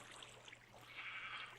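Sheep bleating in a blocky survival-building game, a quiet, wavering bleat or two over a steady low hum, faint and somewhat distant, with no talking.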